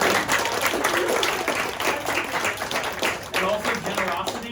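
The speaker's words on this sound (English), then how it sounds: "Can we give her another round of applause?" A workshop audience gives another round of applause, with dense clapping and mixed voices in the room throughout.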